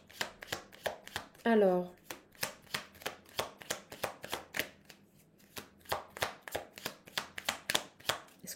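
Tarot cards are shuffled and tapped in quick, rhythmic bursts of crisp slaps, with a brief pause partway through. Someone speaks a single short word.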